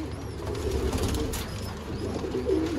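Sialkoti breeder pigeons coo softly and steadily, a low murmuring warble repeated through the moment with faint chirps above, close and unaccompanied by talk.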